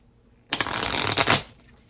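A deck of tarot cards riffled in one quick shuffle lasting about a second, close and crisp against a quiet room.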